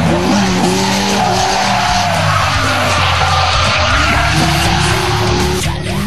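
Cars drifting at a New Zealand import car event, including a K-Style Nissan S13, with loud continuous tire squeal and skidding over roaring engines close by, sustained throughout.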